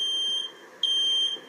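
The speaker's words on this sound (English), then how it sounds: "the warnings sounded by the ringing fire alarm bell installed in your home" A home fire alarm sounds two long, shrill, steady electronic tones separated by a short gap, loud and close with no other sound behind it.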